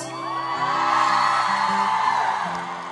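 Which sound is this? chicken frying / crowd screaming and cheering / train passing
crowd screaming and cheering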